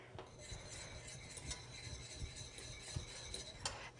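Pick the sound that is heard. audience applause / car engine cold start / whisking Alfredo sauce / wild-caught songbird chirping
whisking Alfredo sauce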